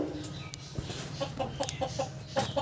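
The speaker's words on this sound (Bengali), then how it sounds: "এই কোনায় বসে বসে ডিম দিচ্ছে" Hens in a poultry house cluck in short repeated bursts during morning egg laying, close by and moderately loud, with a steady low farm hum underneath.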